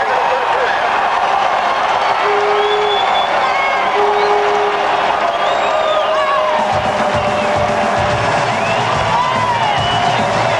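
A packed football stadium crowd roars and cheers through the close of the first half of a 1988 West Virginia versus Penn State game, a dense, sustained wall of noise with whistles and whoops, building louder toward the end.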